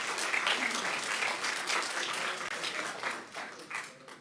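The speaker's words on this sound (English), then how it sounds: "Please keep the applause down or we're going to be here pretty late" Sustained applause from the audience at a city council meeting, a dense steady wash of many hands clapping that tapers off toward the end.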